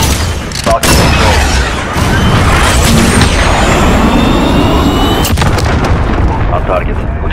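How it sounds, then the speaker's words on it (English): In the Call of Duty Modern Warfare game, a cruise missile strike brings loud, continuous booming explosions and rumbling gunfire with sharp cracks, dense battlefield noise filling the whole stretch. "Cruise missile ready to launch."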